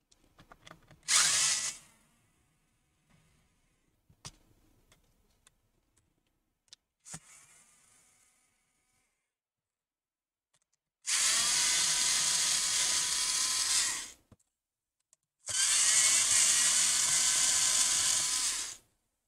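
An electric screwdriver whirs in two long, steady bursts, removing screws from an HP Envy x360 laptop, preceded by a short spin and scattered small clicks and taps of the tools and casing.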